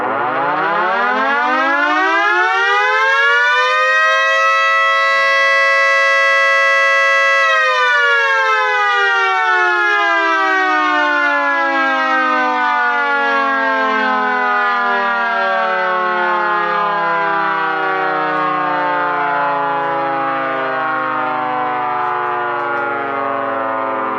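A 2T22 mechanical siren spins up to a loud, steady wail, holds for several seconds, then winds down slowly with a long falling tone, heard alone and close.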